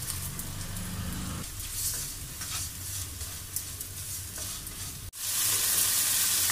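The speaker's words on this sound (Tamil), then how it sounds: "இப்போ வெங்காயம் தக்காளி நல்லா வதங்கிடுச்சு." Onions and tomatoes sauté in a pan for Chettinad okra pachadi, giving a continuous close sizzle broken by stirring scrapes, with a brief pause before the frying returns louder.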